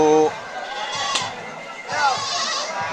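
Black Bengal goats bleat in wavering cries at a goat market, one near the start and another a little later, over a busy crowd murmur and nearby talking.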